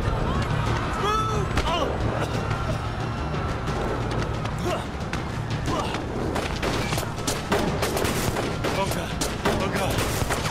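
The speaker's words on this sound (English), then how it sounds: "The soldiers are shooting!" Soldiers' gunfire during a street uprising in the game 1979 Revolution: Black Friday, with scattered shots and bursts over a running, shouting crowd and continuous loud turmoil.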